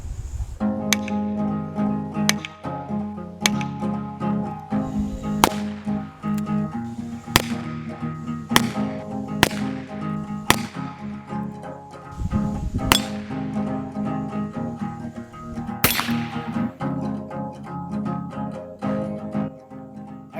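Repeated sharp shots from an H&R Premier .32 S&W revolver fired at small targets outdoors, about ten reports spaced irregularly over a steady background of music or hum.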